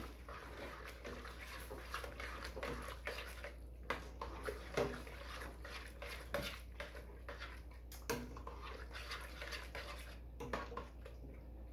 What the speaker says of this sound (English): And stir vigorously.